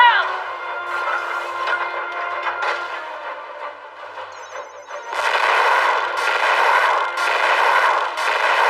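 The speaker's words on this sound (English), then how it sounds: "Bring a torrent of coil gun fire and unleash hell!" Coil guns fire during an anime battle. A dense, rapid burst of shots starts midway and roars on loud and sustained, after a stretch of voices and lighter battle noise.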